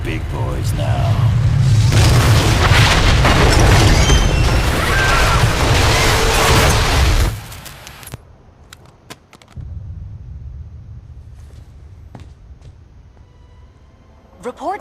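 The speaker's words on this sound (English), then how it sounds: "Reports now coming in from Stamford, Connecticut indicate a massive explosion in a residential neighborhood." A massive explosion in a residential neighborhood in the video game Ultimate Alliance 2 lets out a loud, sustained roaring blast for about seven seconds. It then drops to a quieter rumble with scattered debris clatter.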